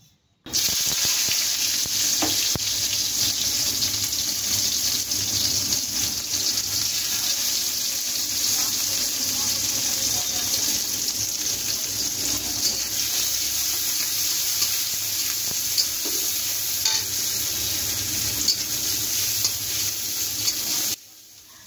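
Onions sizzling in hot oil in a wok while being made into ghugni, a loud, steady frying hiss that runs nearly unbroken with occasional scraping stirs.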